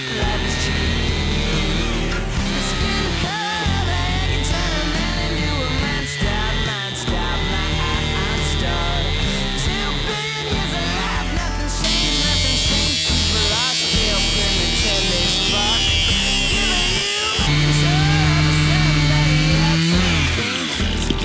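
A gas-powered Stihl MS 271 chainsaw cuts into a tree outdoors, a loud continuous buzzing engine whine with brief dips as the load changes and a revving pitch near the end.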